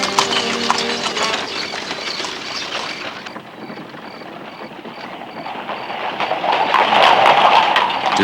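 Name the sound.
horse-drawn carriages clip-clopping through streets of Luxor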